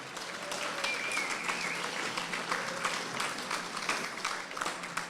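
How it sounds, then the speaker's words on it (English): Steady applause from a gala dinner audience for the finalists, sustained and fairly even across the room, with a faint voice briefly audible beneath the clapping. "Can you give our finalists a round of applause again?"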